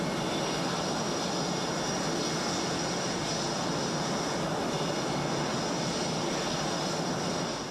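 Military jet fighters, F-16s or Blue Angels jets, taxi out on the ground with a steady, loud, broadband engine roar that holds evenly for the whole stretch, with no talking.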